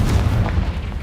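A Confringo fire spell going off in Hogwarts Legacy, heard as a single loud, deep, rumbling blast that fills the whole short moment close up.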